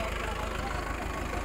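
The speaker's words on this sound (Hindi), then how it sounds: "नहीं, ट्रैक्टर बंद कर ले" A tractor engine runs steadily on a farm during a field demonstration with a nine-tine cultivator, a continuous mid-to-low idling drone with people talking faintly over it.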